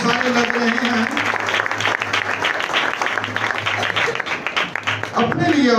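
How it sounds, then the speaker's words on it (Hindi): A Christmas service congregation claps loudly and steadily, dense applause filling the hall for several seconds, with voices and cheering mixed in. "जोरदार तालियां बजाएंगे अच्छी वर्शिप के लिए, अच्छी क्वायर के लिए"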